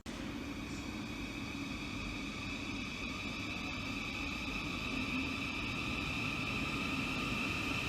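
Train passing through a Great Northern railway station on Essex Road, a steady broadband rumble with sustained high whining tones holding level and loud throughout, no voices.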